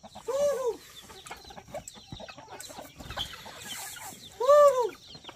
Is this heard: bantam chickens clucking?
yes